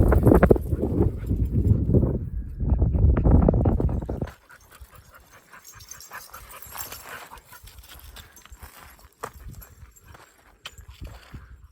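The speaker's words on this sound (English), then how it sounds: "These dogs are pretty wild, man." Dogs, one an Australian Shepherd, pant hard and patter on the ground for the first few seconds while hiking in a desert canyon, then everything drops to quiet outdoor stillness.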